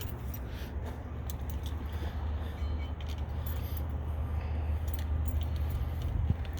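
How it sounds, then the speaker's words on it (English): A set of keys jangles intermittently inside a bus being toured, the small metallic clinks sitting over a steady low engine or idling rumble throughout. "Gotta find your keys."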